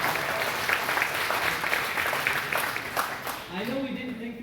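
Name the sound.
audience applause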